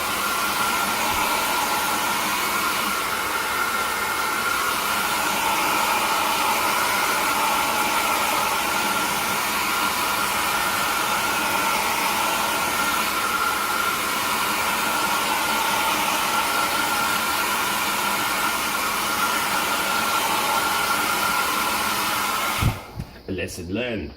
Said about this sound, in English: Always have a hairdryer.